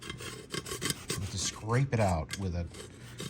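Dry-rotted black window screen spline being scraped out of its channel with a flathead screwdriver, dense close rasping strokes in quick succession with a voice speaking over part of it.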